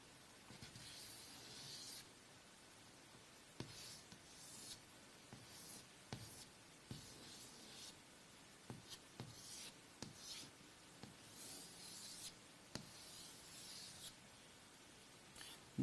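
A pen or pencil scratches across paper during a sketch, with rhythmic strokes and short scribbling bursts, some quick taps between them, faint and close with no talking.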